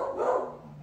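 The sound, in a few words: dogs barking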